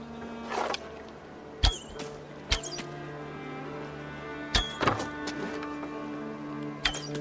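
Arrows striking a target in Assassin's Creed Valhalla, five or six separate sharp thunks spaced a second or two apart over a low steady ambient hum.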